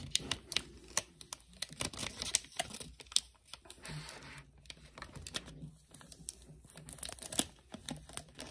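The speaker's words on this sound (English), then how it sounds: "now we're gonna come up here and we're gonna start peeling" Letter-design vinyl peels slowly off a coffee mug in close, quiet crackles and crinkles, with irregular taps and ticks of handling scattered throughout.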